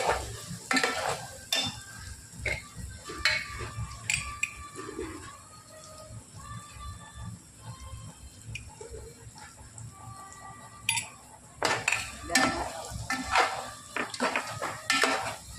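Chicken curry with spices, made with gongura, stirred in a hot pan: irregular scraping and clinking strokes over a low sizzle, with bird calls chirping in the background and no talk.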